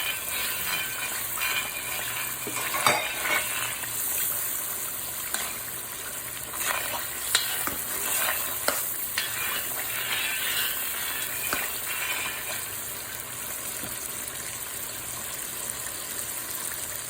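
Ground sage mixture being stirred in a pan, a steady sizzling hiss with scattered scraping clicks from the utensil throughout, close and moderately loud, with no talking.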